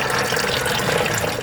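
Coolant trickling and splashing out of a BMW E46 M3 radiator as it is removed, a continuous close watery pour for a moment, no talking.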